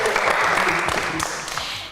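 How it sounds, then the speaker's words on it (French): Studio audience on a French quiz game show applauding a contestant's answer, a short dense burst of clapping with voices mixed in and a sharp sound right at the end. "On les applaudit."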